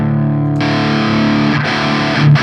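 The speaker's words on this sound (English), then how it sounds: "That's basically a distortion pedal at this point." Electric guitar played through a Master Effects Warmonger distortion pedal, a thick gainy chord ringing with sustained harmonics, then fresh strums near 0.6 s and 2.3 s, loud and close with no talking.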